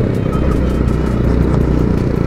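A motorcycle engine runs loud and close while riding on the road, a steady low rumble with slight surges and constant road noise.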